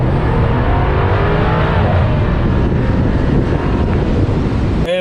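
A 2020 Mercedes-Benz C63 S AMG Coupe driving in sports mode, a loud continuous engine and exhaust roar mixed with road and wind noise, steady throughout with a brief sharp sound at the very end.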